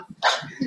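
A single dog gives one short, sharp bark, close and fairly loud, with faint low noises around it.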